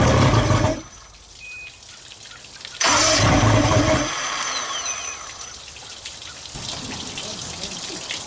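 A boat outboard motor under repair on its first start attempt sputters to life in loud bursts, catching and dying, then settling into a rough, steady run with splashy water noise nearby.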